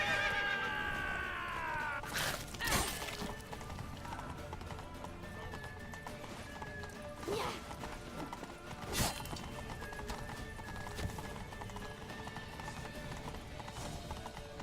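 Horses neigh and gallop in The Witcher 3, with a sharp whinny at the start and steady hoof beats under repeated loud thuds and game effects, fairly close.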